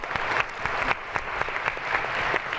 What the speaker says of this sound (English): Round of applause for our guests, please